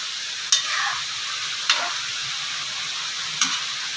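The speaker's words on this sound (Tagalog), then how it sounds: "Pwede nyo pong haluin." A spoon stirs chili and vegetables simmering in coconut milk, a soft steady bubbling hiss broken by three sharp clinks against the pot, with no voices present.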